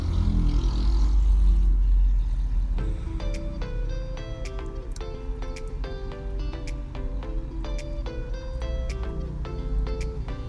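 A Toyota Corolla 1.6 engine runs steadily as the electronic throttle is opened during a tune-up, giving a continuous mechanical drone with a regular ticking of harmonic pulses layered over it.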